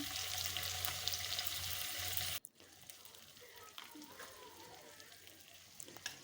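Onion, green chili and ginger, garlic and cumin pastes fry while being stirred, a bright sizzle that drops sharply quieter partway through, then continues with soft scraping and crackle.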